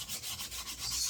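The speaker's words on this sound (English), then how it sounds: "I like this size for sanding" Folded sandpaper rubs by hand across a wooden desktop organizer shelf. Soft, close scrubbing strokes repeat in a quick, even rhythm, with no talk over them.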